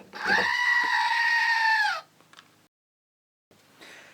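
A Screaming Goat novelty toy lets out one loud, sustained bleating scream lasting about two seconds, followed by faint handling clicks and then quiet.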